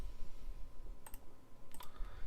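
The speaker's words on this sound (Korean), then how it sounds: "컨트롤 C 누르고요." Two quick clusters of computer keyboard key presses, as for Ctrl+C, click sharply and close against a low background hum.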